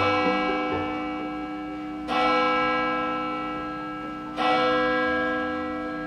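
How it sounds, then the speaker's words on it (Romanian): Two strikes of a large church bell at a festive holiday gathering, each loud clang at about two-second spacing followed by a long ringing, shimmering decay, with no voices heard. "Toată lumea aștepta nerăbdătoare să audă clopotul adus de Kristoff și Sven."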